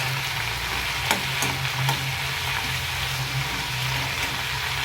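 Fresh mint leaves frying in hot oil in a pan make a loud, steady sizzle with a few faint clinks over the top and no voices.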